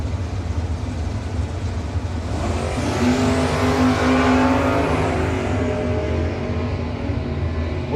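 Drag race cars, including a 1968 Camaro chasing a Vega, roar past at a no-box 660 shootout, loud engine noise rising and swelling toward the middle of the run and staying heavy throughout, with no talk.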